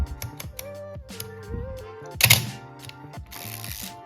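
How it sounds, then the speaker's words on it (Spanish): Mechanical clicks and snaps from a Nikon FM3a film camera's shutter and winding mechanism, a string of crisp, close ratcheting sounds with one louder sharp release near the middle. "este es el sonido que produce el obturador"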